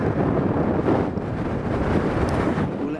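Strong wind blows steadily across open Northumberland hills, a loud continuous roaring buffet against the microphone with no break, rough and low.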